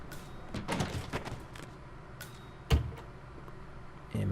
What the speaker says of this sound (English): Door should shut on its own.